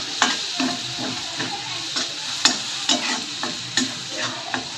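Onion sautéing in oil with turmeric over a low flame sizzles steadily while a spoon stirs and scrapes the pan in a regular rhythm, with no talking.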